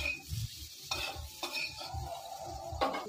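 Spices and chilli powder stirred into a sizzling pan, with a spoon scraping in steady rhythmic strokes over a soft frying hiss, close and clear with no talking.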